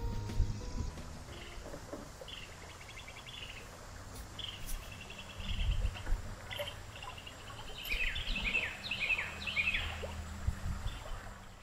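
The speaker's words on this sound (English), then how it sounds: "rustling of the river, the cicadas, the birds singing." Cicadas and birds singing beside a river in a state park, faint chirps and repeated high calls over a low, steady wash of flowing water, growing busier toward the end.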